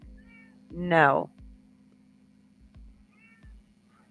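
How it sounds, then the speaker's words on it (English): A cat meows loudly once at close range, a rising, drawn-out cry, with a short spoken word and faint soft sounds in an otherwise quiet room. "The cat's telling me, can I please play with it for a little longer?"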